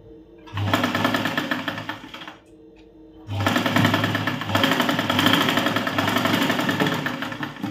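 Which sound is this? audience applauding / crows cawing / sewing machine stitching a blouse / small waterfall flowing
sewing machine stitching a blouse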